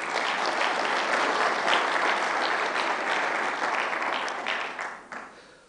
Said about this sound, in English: And that deserves a clap of hands.